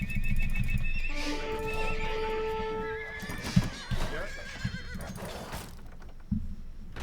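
Horses neighing and whinnying in the Age of Empires 2: Definitive Edition strategy game, one long prominent whinny followed by hoof clip-clops and battle sounds, with faint speech.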